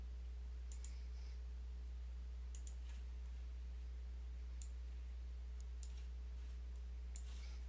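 Faint computer mouse clicks, five or six sharp single or double taps spaced irregularly over a quiet background with a steady low electrical hum.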